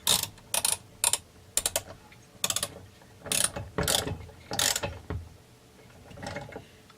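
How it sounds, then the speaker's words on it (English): A torque wrench ratchets in short bursts of rapid clicks while tightening a nut on a Husqvarna 372XP chainsaw, close and crisp, with the bursts spaced irregularly and no talk. "Nut goes on. And I need torque wrench for this."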